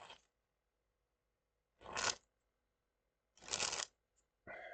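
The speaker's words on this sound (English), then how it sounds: "I now took out cards, so of course I'm now shuffling them in my hand." Playing cards shuffled by hand in three separate bursts with pauses between, plus a fourth starting at the end, close and fairly quiet with no talk.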